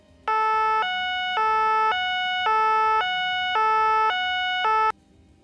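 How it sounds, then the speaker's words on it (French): A two-tone priority emergency vehicle siren in France alternates steadily between high and low pitches, loud and close, running about four and a half seconds before cutting off. "Les véhicules d'intérêt général prioritaire ont des sirènes à 2 temps."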